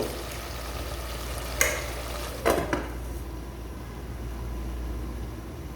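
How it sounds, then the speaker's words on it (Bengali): Spices are stir-fried in a pan, a steady low sizzle broken by a few brief scraping clanks of a utensil against the pan, close by with no voices. "ভালো করে কষাতে হবে, না কষালে মশলা ভালো করে হবে না"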